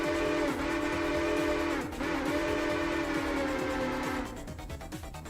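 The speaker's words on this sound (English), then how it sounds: "That was like no space to blow the whistle at all." A train whistle sounds in the Railroader video game, a long sustained chord-like blast that dips briefly near the middle, then cuts off, leaving the rhythmic clatter of rolling rail cars.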